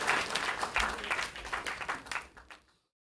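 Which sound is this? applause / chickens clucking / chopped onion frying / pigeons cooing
applause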